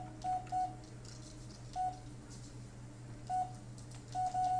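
Telephone dialing tones from the Blair Witch video game: short, clear DTMF beeps in small bursts, some in pairs, over a steady low background hum.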